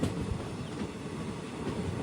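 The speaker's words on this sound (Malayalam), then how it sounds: "ഇവിടെ ഒരു ട്രെയിൻ ഇപ്പോൾ ഓൾറെഡി വന്നിട്ടുണ്ട്. Vasco da Gama Yesvantpur express." Vasco da Gama–Yesvantpur Express at a station on the Arsikere–Bengaluru line, a steady broadband rumble of rolling stock with faint clatter, loud and continuous, with no voices.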